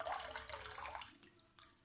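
Water gurgles and splashes into a plastic bottle as trapped air escapes, a soft, close pouring sound that fades into faint trickling.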